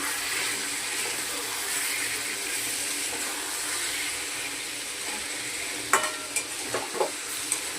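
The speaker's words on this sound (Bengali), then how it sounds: "কষানো হচ্ছে এটা।" Soybean curry sizzles steadily while it is stirred and sautéed in a pan, with a constant frying hiss and a few sharp utensil scrapes and clinks near the end.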